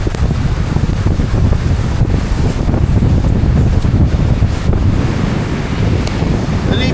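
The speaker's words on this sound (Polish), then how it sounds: "Słychać szum fal." Sea waves rush and surge over heavy wind buffeting the microphone on a rainy day at Durrës, Albania, a loud continuous roar with no talking.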